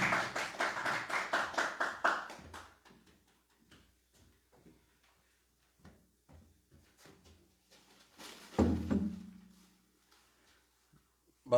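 An audience welcoming a professor to a lecture claps in fast, synchronized North Korean-style unison for about two and a half seconds, then the clapping breaks into a few sparse taps and ends with a dull thud.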